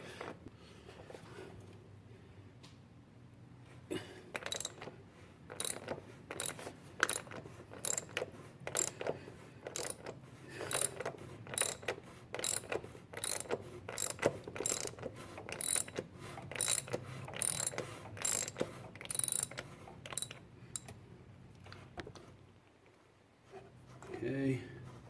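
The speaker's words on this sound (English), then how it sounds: "let's loosen this out a little bit. And that's a 7/8 socket here." Ratchet with a 7/8 socket loosening the oil drain plug on a 2010-2015 BMW X3 xDrive 35i (F25), giving steady rapid clicking bursts of pawl ratcheting up close, with a quiet pause near the end.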